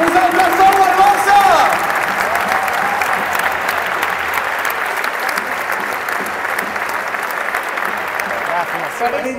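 A large stadium crowd at Spotify Camp Nou applauds and cheers at a Barcelona farewell, a loud sustained wall of clapping that holds steady throughout.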